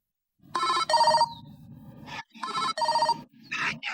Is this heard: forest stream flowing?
no